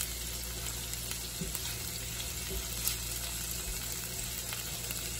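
Chicken thighs sizzle skin side down in a hot pan, a steady, close crackling fry with some faint clatter and no talking.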